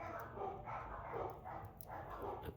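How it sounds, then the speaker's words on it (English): Small dogs yap and bark in a busy, overlapping jumble, fairly close and continuous for a few seconds. "I can't get through a video without the dogs going crazy."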